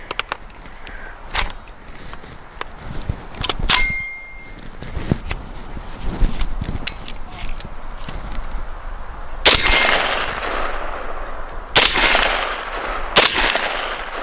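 A shotgun fires Winchester AA shells: several sharp, loud reports spaced irregularly, each followed by a short ringing decay, with mechanical clacks between shots outdoors.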